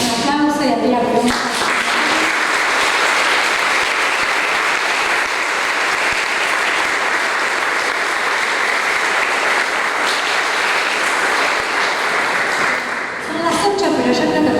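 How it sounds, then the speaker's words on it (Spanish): Audience at an academic talk on racism in Latin America, held in Rosario, breaks into loud, sustained applause that fills most of the stretch. A voice speaks just before and again as the clapping dies away. "Yo creo que podemos dar un aplauso y abrir la pregunta."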